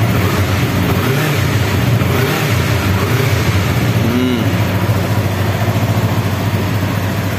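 A 2016 Yamaha R25 motorcycle engine runs loud and close, a dense continuous engine roar with slight surges, heard alone without talk.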